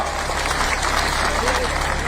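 A tractor engine idles with a steady low rumble at a farmers' gathering, a constant drone under someone speaking.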